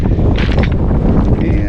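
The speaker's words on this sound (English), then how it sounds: "we're getting a little wind" Wind blowing across Back Beach on Bass Harbor, Maine, in December, a loud steady buffeting rush against the microphone with brief gusty swells.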